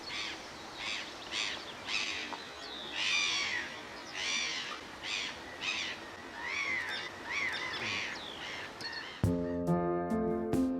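Black-headed gulls call in repeated harsh, yelping cries from a large flock, moderately near over a soft background, followed at the end by a brief, louder, different tonal sound.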